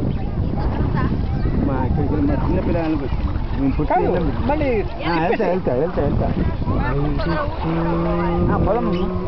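A boat moves along the Godavari River with a low rumble and wind buffeting the microphone, while people talk and call out over it.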